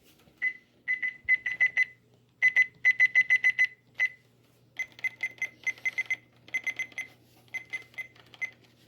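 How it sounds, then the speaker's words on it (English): Button beeps from an Oregon Scientific WR608 weather radio: many short, high, bright electronic chirps in quick irregular bursts and runs, close and clear with brief pauses between groups, no voices. "basically the button beeps are really higher pitched than any of those radios"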